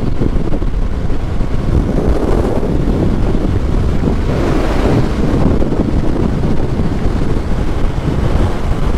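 Strong wind buffets the microphone on a road in loud, continuous low rumbling gusts, a steady roar with surges in the middle.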